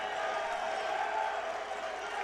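A basketball crowd cheers for the Notre Dame Dons in a gym, a broad, sustained roar of voices and whoops with no letup.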